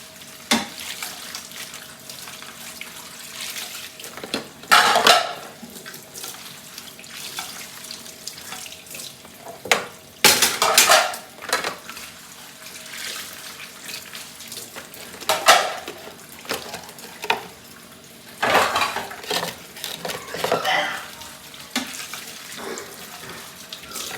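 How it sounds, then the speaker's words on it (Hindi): Dishes, pots and pans being washed at a kitchen sink on a winter evening, with a tap running in repeated bursts, splashing water and occasional clinks of utensils, close by. "तो बर्तन धुल गए हैं।"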